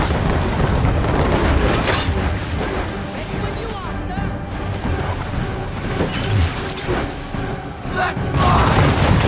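Naval cannon fire from sailing warships in Assassin's Creed III, deep booms rolling over a constant roar of sea and battle, with shouted commands from the crew mixed in.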